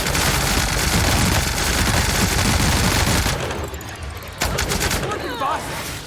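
Bursts of weapon fire in The Outer Worlds video game, loud and dense in the first half before thinning into scattered shots and softer effects.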